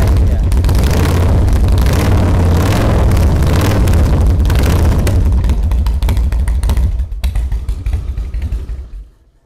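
A 2000 Harley motorcycle engine runs close by with a loud, deep, lumpy rumble that holds steady, then cuts out and dies away near the end.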